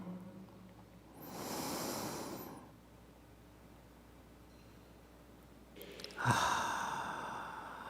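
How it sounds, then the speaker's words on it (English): A deep inhale during a guided breathing exercise: a soft, drawn-out breath rises and fades, followed after a pause by a second louder airy breath or sigh, close and quiet with no talking. "And another inhale."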